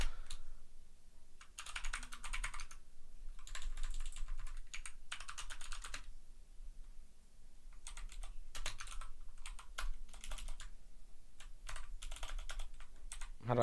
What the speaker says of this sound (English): Like this ASMR, the typing ASMR right now.